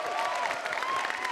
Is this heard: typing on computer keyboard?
no